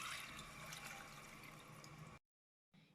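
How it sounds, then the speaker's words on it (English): Water pours into a pot for chicken biryani rice, a steady rushing stream for about two seconds, then it cuts off and a faint splash follows. "I'll be adding 8 cups of water"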